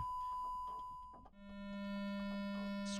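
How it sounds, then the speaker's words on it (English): A pure electronic sine wave tone holds a single steady pitch, clean and smooth, for about a second. A buzzier, lower tone then takes over. "Sine wave."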